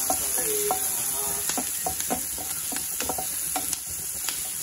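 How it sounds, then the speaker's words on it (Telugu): Curry masala with turmeric fries in a pan, giving a loud steady sizzle close by, with regular scraping stir strokes and soft clicks of the spatula on top, and no speech. "బాగా పచ్చివాసన పోయే వరకు వేయించుకోవాలి."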